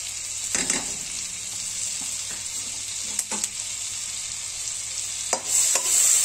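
Whole garam masala spices fry in melted butter in a pan for restaurant-style butter chicken, a loud continuous close sizzle with a few brief stirring scrapes.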